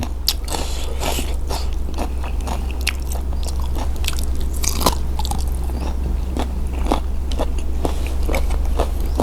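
Close, steady crunching bites and chewing while someone eats sour-cured cow's feet with pickled vegetables, with sharp crisp crackles repeating irregularly over a constant low hum, and no talking.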